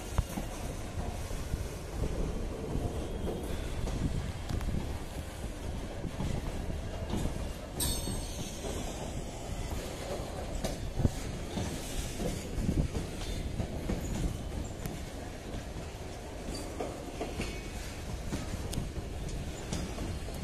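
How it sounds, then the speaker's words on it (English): A heavy freight train rumbles past steadily near Naihati Junction, West Bengal, with rolling, clattering wheels and a brief squeal of metal partway through, wind buffeting in the background. "This is goods train Noihati Kasset to Bandel Kasset."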